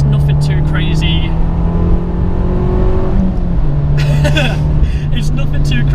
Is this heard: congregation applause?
no